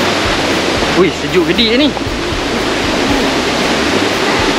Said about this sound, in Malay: Jom kita nak mandi kat mini waterfall dulu.